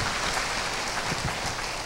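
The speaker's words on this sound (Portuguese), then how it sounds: "Dê um aplauso ao Senhor." A church congregation applauding during a service, a short, dense burst of steady clapping heard close and loud for a couple of seconds.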